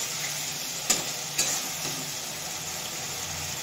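Mutton spice paste with chopped tomato frying and being stirred in a pan, a soft steady sizzle with two sharp scraping knocks of the spoon against the pan early on, fairly quiet.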